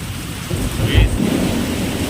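Steady heavy monsoon rain, the first of the season in Konkan, hisses throughout, with a low rumble of thunder swelling near the middle before easing back into the downpour.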